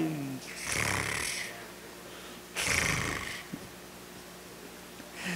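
A voice imitates snoring with two drawn-out, rasping snores separated by a pause, close and fairly loud.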